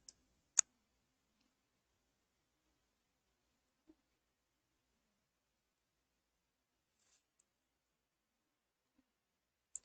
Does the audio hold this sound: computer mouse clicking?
yes